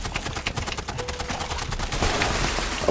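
Rapid, continuous gunfire from a Fallout 76 raid mission, a steady rattle of close, loud shots with a short tonal whine partway through, no voices.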